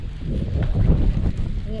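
Wind buffets the microphone in low rumbling gusts, while a person talks over it.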